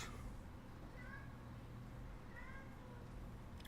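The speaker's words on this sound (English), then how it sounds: "And my kitties are right here." Two separate meows from pet cats indoors, fairly faint and spaced about a second apart, over a steady low background hum; no talking.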